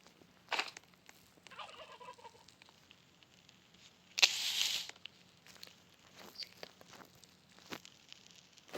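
Turkeys gobbling in the video game 99 Nights in the Forest, several short bursts of rapid gobbles scattered across a quiet forest scene with faint footsteps and rustling.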